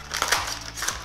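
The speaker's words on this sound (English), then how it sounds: "I'm gonna cut it into small pieces," A PET plastic bottle is cut into small pieces, with crisp crunching and crackling snips of plastic close up in two or three quick bursts.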